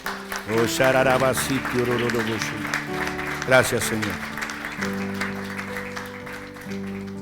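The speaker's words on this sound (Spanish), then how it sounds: "Dale un aplauso a Cristo en esta noche." Congregation at a church service applauds, a broad steady wash of clapping under a speaker's voice and background music that continues throughout.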